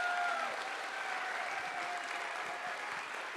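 Audience at a symphony concert applauding, a dense, steady wash of clapping from a sizeable crowd, moderately distant and unbroken throughout, with a faint cheer near the start.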